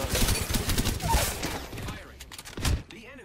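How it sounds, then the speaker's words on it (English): Enemy gunfire in a video game crackles in rapid bursts and volleys, dense and loud at first then thinning out, with one heavier thump near the end. "The enemies are shooting at me."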